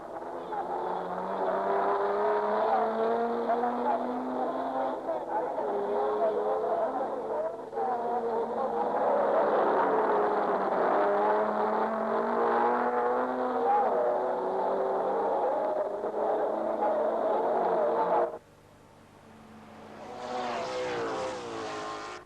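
1958 Aston Martin DB race cars at Le Mans, running in near darkness toward Tertre Rouge on a slippery, skating-rink-like track. A loud, steady engine drone holds for about eighteen seconds, then drops to a quieter engine note that swells again.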